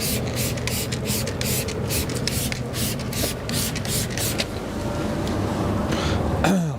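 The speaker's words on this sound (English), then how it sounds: "Okay, so we're going to spray it on." Tar and glue remover is sprayed onto a car in a rapid run of short, crisp hissing bursts close by, then a few longer sprays follow as the pace eases.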